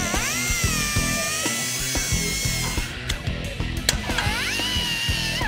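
A power tool grinds and trims bare metal on the X-frame of a classic Chevy Impala to clear the rear shock, a steady high whine broken by short bursts and brief pauses, close and alone.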